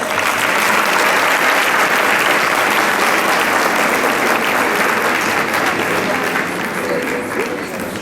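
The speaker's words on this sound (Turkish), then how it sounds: "Şimdi kuvvetli alkışlarınız hiç susmadan devam etsin." Loud, dense applause from a large crowd at a Caucasian cultural night in Çorum, sustained steadily throughout and easing off only slightly toward the end.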